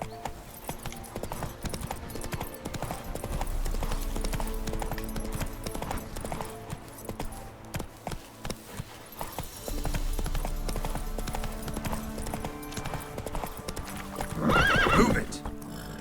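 Roach the horse in The Witcher 3 gallops with rapid clip-clop hoofbeats over game music and ambience, then gives a loud whinny near the end, with brief talk in the game.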